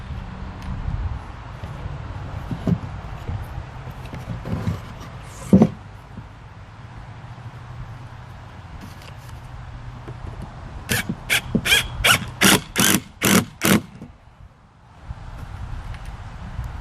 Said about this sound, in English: we'll go ahead and shoot some screws into this also